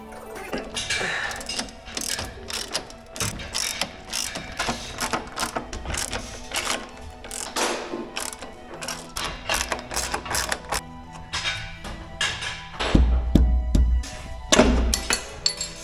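Ratchet loosening the wheel assembly bolts on a Mk1 Volkswagen Golf during suspension removal, a busy run of clicking pawl strokes and metallic clanks over about sixteen seconds, with a heavier low thump near the end.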